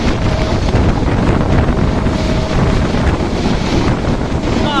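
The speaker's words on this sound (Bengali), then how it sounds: "আমি ফোন বাইরে করতে পারতেছি না এত পরিমাণ বাতাস আমার হাত থেকে ফোন পড়ে যাচ্ছে এরকম বাতাস" Strong wind rushes past a phone held outside the Kurigram Express as the train runs at about 85 km/h. The wind roars and buffets the microphone loudly and constantly.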